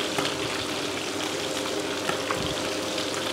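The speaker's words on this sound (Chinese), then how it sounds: "最后把表皮炸得焦黄" Soy-sauce-coated pork belly frying skin-side in hot oil, giving off a continuous close bubbling sizzle with a few sharper pops and crackles, heard alone without talk.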